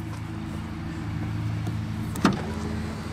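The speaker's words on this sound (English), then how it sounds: "we have the Ant Research motorized steps that comes down" Ant Research motorized steps on a pickup truck deploy with a steady electric motor hum, ending in a short mechanical clunk as they lock into place.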